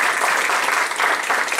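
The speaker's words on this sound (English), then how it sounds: "give Faisal a round of applause for the excellent" Dense, steady audience applause fills a Humanists of Houston talk hall after Faisal Saeed Al-Mutar's presentation, a close, continuous wash of many hands clapping with no voices on top.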